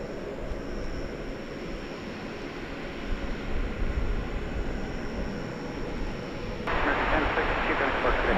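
Jet noise from an American Airlines Boeing 737-800 at an airport, a steady broad rumble that swells partway through, with a voice talking over it.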